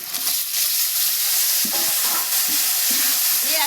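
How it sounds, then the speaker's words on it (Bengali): Tomatoes frying with salt and turmeric for a vegetable dal, a loud steady sizzle with soft stirring scrapes throughout. "নুন হলুদ গুঁড়ো আর দিয়ে দেবো টমেটো"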